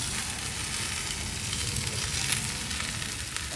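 A ragi roti made with drumstick leaves sizzles on a hot griddle, giving a steady, close, crackling hiss that holds evenly throughout with no talk.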